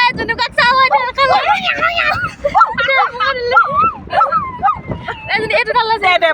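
A person imitating a puppy with a quick run of high, yappy barks, yips and whimpering squeals, close and loud, in irregular bursts with short gaps.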